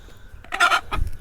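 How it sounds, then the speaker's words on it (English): Chickens cluck and squawk in a short burst as they snatch and eat cicadas, a close, loud cackle in the middle over low rustling farmyard background. "They grab it and run off and try to keep the other chickens away from it."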